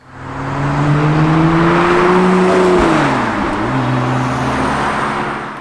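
A 2011 Lotus Evora S engine and exhaust drone loudly and steadily, the pitch rising slowly and then dipping before settling again, a close, rasping, sustained note with no talk over it.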